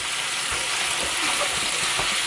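Ground meat browning in a hot pan for empanada filling, giving a loud, steady sizzle and crackle with a few faint stirring scrapes, close up and with no voices.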